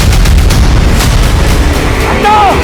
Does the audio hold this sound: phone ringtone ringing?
no